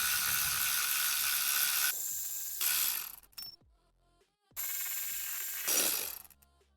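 A hand ratchet breaks loose bolts on an Audi B9 S4 transmission mount: loud, close bursts of rapid clicking, stopping and starting several times with short pauses and clunks between runs.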